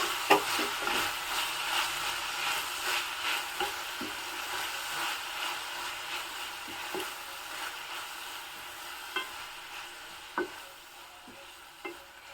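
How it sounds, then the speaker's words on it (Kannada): Chopped fenugreek leaves sautéing in a pan, a soft continuous sizzle broken by scraping stirs and occasional clicks of the spatula, close and fairly quiet with no talking. "ಹೆಚ್ಚಿ ಹಾಕಿದ್ದೀನಿ ಮೆಂತೆ ಸೊಪ್ಪು ಸಹ ಚೆನ್ನಾಗಿ ಬಾಡಿಸ್ಕೋಬೇಕು"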